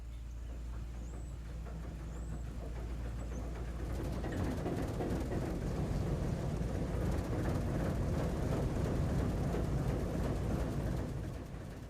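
An Alco HH1000 diesel switcher locomotive starts up: after quiet ambience with a few birds chirping, the engine turns over and settles into a loud, steady, rumbling idle that fills the rest of the clip.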